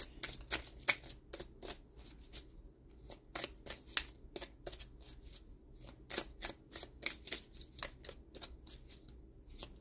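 Oracle cards from a colour oracle deck are shuffled by hand in a rapid run of crisp, close riffling strikes and slides, repeating steadily throughout without any talk.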